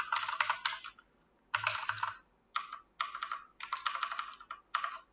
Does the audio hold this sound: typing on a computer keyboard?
yes